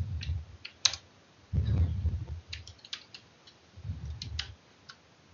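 Fingers type on a computer keyboard in irregular bursts of crisp, close key clicks, broken by a few duller low thumps, with no talking.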